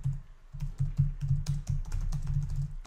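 Typing on a computer keyboard while composing a Gmail message: steady, close clicking keystrokes in a continuous run with a brief pause near the start, no talking.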